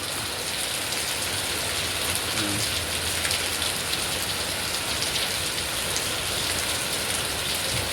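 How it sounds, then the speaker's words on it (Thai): Heavy rain pouring steadily, a dense unbroken hiss of drops drumming on surfaces, with no voices. "ฝนตกหนักมากเลย"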